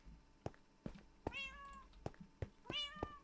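A house cat meows twice in a kitchen, each call a rising, drawn-out tone, with sharp clicks and knocks scattered around it, close and fairly quiet.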